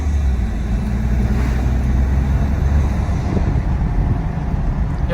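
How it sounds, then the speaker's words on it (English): Steady, loud hum from a 2013 Ford F-150 3.5 with an aFe cold air intake, its turbo spooling under a constant drone of engine and road noise, with no voices. "It's more like a diesel-y turbo spool now."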